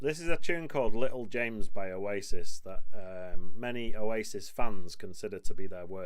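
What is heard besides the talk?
No distinct noise like a dog, phone or traffic.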